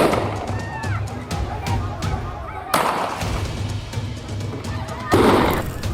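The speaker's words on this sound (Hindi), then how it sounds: "इसमें गोली चलाने की आवाज साफ साफ सुनाई दे रही है" Gunfire in a violent incident in Mewat, India, comes as sharp, distant cracks: scattered small pops early on, then two louder bangs about two and a half seconds apart, over a noisy outdoor background with voices and honking.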